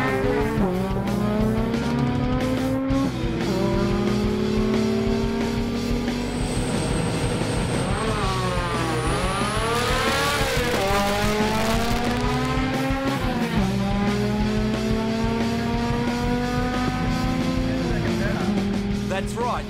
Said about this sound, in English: burnouts serve a purpose, to warm the tyres and let the car do this.